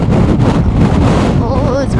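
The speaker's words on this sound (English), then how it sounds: "Oh, it's very windy." Strong gusts buffet the microphone in a steady, loud roar from start to finish, with a low rumble underneath; a faint voice comes through near the end.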